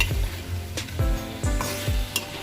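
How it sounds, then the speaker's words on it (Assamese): Mutton pieces frying in a pan with crushed garlic, ginger and browned onion, a close steady sizzle broken by a few scraping stirs of the spoon. "ভাজি লৈ তাৰপিছত মই মাংসখিনি দি দিছোঁ।"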